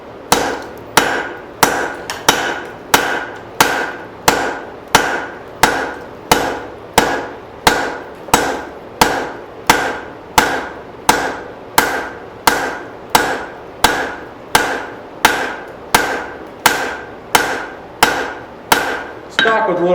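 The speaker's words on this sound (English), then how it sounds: "now I'm gonna hammer my taper in" Steady, evenly spaced metallic hammer blows on hot steel over an anvil, forging a hatchet, ring out one after another, loud and close, about one strike per second with no talking.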